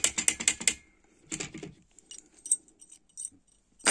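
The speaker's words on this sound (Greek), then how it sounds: "Και απλά γυρνάμε το κλειδί και έχουν κλειδώσει μπάρες" Removable solid steel security bars for a window (T 80 type) are locked with a key: a burst of metallic clattering and ratcheting clicks, then lighter scattered clicks of the lock mechanism, close and fairly clear.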